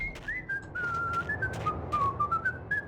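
A person whistles a wavering, sliding melody without a break, steady and fairly close, with no talking over it.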